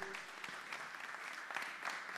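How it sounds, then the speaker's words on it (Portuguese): An audience applauds after a live Spanish-language dialogue performance, a steady wash of clapping from many hands that holds at an even level for the whole moment, with faint voices mixed in. "Um aplauso fuerte más para Doña Elisenia y Don Winnie Paulo"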